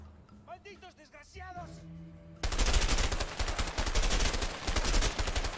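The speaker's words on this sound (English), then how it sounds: "Just shooting a fucking tree." Gunfire in the video game A Way Out, a sustained burst of loud, rapid shots that starts abruptly partway through and continues to the end, preceded by players talking.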